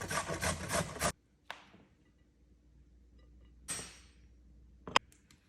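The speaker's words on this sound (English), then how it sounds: "Grate about 4 carrots." Carrots rubbed against a hand grater for a carrot apple salad: a long, dense rasping burst at the start, then two shorter grating strokes later, close and fairly loud with quiet gaps between.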